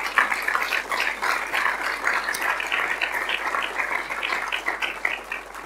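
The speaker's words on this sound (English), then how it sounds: "I think that's worth an applause." An audience at a business and peace event gives sustained, dense applause, with many hands clapping evenly and close for several seconds.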